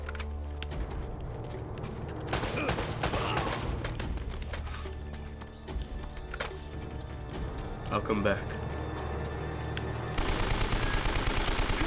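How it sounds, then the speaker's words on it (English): Gunfire erupts in the action game Uncharted: Drake's Fortune, bursts of rapid shots and booms layered over game music, while a player talks over the action throughout. "you hear a barrage of gunshots"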